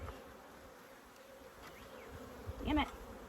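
Bees buzzing around an open beehive during a hive check, a faint low hum with a brief closer drone as one passes by.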